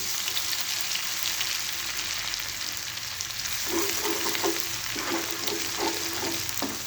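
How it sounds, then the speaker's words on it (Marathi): Ginger-garlic paste hisses in hot oil for a tomato curry, a loud continuous broadband sizzle with a few stirring knocks in the second half, close and without voices. "आपलं तेल तापले. आता आपण अद्रक लसूण पेस्ट टाकूया."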